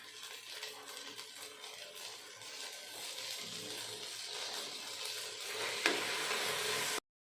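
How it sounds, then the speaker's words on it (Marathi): Garlic fries in ghee for a soybean chili, giving a quiet, steady crackling sizzle with light stirring scrapes throughout and one sharper clink near the end. "असा ह्या प्रकारे आपल्याला लसूण असा फ्राय करून घ्यायचा आहे"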